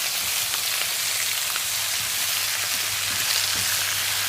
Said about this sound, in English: we've got 2 bags of the spinach, and then we start stirring them again together.